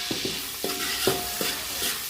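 Raisins frying in a pan with ghee for semiya kesari, with several soft stirring scrapes and light crackles spaced through a quiet background, no talk.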